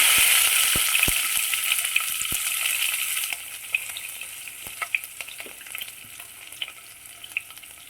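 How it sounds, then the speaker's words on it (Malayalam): Garlic and fennel seeds frying in hot oil for a Kerala clam meat fry, a steady close sizzle that starts loud and eases off, with scattered sharp crackles and pops throughout, no voices. "പെരിഞ്ചീരകം ഒന്ന് ചെറുതായി മൂത്ത് വന്നു കഴിഞ്ഞപ്പോൾ വെളുത്തുള്ളി ഇടും."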